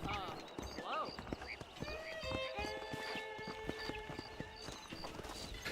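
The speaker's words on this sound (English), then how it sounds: "the sound of that horse's hooves on the ground" Horse hooves clop rhythmically on the ground in the Red Dead Redemption video game, a steady run of close hoofbeats under game music and ambient tones.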